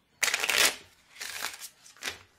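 Playing cards shuffled by hand: one sharp riffle followed by two softer riffling bursts, close and quiet with no voices.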